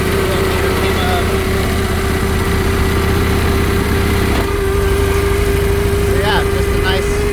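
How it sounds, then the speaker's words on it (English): A 1980 Harley Davidson FLT Tour Glide idles steadily while its speedometer gives off a continuous high, thin whine above the engine rumble, which shifts slightly partway through. "sorry for the whining speedo"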